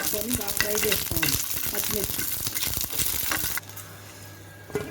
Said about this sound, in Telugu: ఆయిల్లో స్పూన్ ఆయిల్ వేసుకొని బాగా మీడియం ఫ్లేమ్లో పెట్టుకొని బాగా ఫ్రై చేసుకోవాలి.